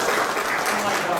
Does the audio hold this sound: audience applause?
yes